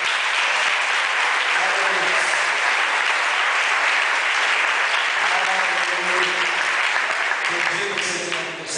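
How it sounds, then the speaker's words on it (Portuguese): A church congregation applauding loudly and continuously, dense sustained clapping filling the space, with voices and cheers mixed in throughout. "Aplauda mais forte ao Senhor,"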